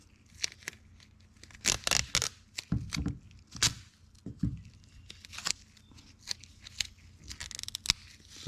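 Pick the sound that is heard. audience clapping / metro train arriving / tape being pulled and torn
tape being pulled and torn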